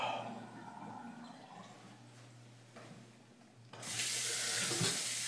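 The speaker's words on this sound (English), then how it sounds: "I have to drain the water." A bathroom sink during shaving: a quiet, steady trickle of water is followed by a sudden louder rush as the water drains or runs, close to the microphone, with no speech.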